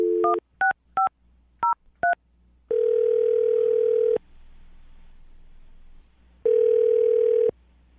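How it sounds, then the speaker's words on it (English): A telephone dials a number with a quick series of DTMF keypad beeps, then gives two long, loud ringback tones separated by a pause, close and clear with no talking. "I'm going to dial the phone number right now."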